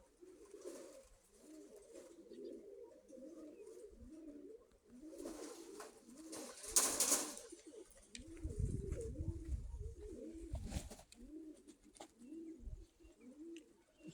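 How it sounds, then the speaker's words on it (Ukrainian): Pigeons coo steadily in soft, rolling, repeated phrases, close by, with occasional wing flutters and rustling around them; no talking. "от такого плана голубки"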